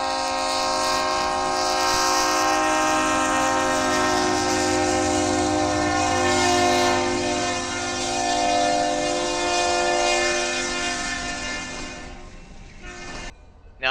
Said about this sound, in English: we see a westbound Union Pacific unit coal train blasting through the diamond.